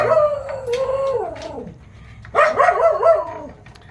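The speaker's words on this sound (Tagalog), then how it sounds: "Background ko yung kahol ng aso." A dog gives two drawn-out, wavering barks that slide into howls, loud and close, with a short pause between them, outdoors in a tomato garden.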